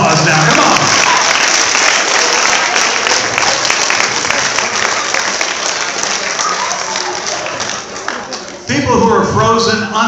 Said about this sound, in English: Give them a huge round of applause now.